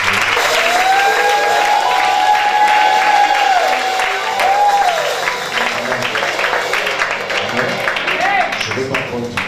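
A congregation at a Sunday church service breaks into sustained applause that fills the room. Voices and cheers rise over it, and a few sung or shouted tones carry above the clapping before it thins out.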